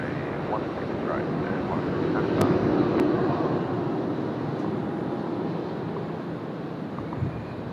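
Malaysia Airlines jet in oneworld livery touching down at Sydney Airport, a steady broad roar of engines and rushing air that swells slightly midway and holds throughout, fairly loud with wind buffeting the microphone, no talking.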